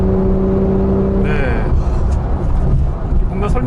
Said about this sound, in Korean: 지금 가속을 조금 해보면 이런 느낌을 낼 수 있다라는 게 저는 존경스럽습니다